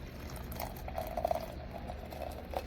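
Water is poured into a Peach Street 1.7-liter speed-boil electric kettle, a soft continuous gurgling splash with a rising liquid tone, close but fairly quiet, with no talk.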